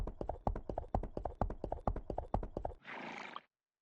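A horse in an online role-playing game trots with steady clip-clop hoofbeats, then finishes on a loud whinny, heard alone with no talking.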